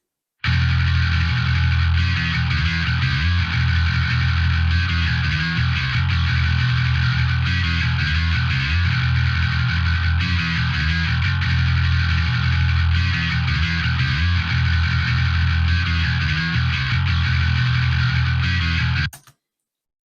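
Bass guitar played through Parallax X, EQ and a White 2A compressor plugin, a gritty, distorted, driving tone with steady picked notes, loud and continuous for about nineteen seconds before stopping abruptly, no talking.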